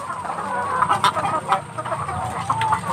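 Laying hens in a full egg-farm coop clucking and murmuring, several birds close by with short overlapping calls above a steady background of flock noise, no speech.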